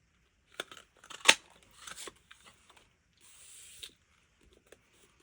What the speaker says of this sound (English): So I'll just trim the end off so I can actually get that corner.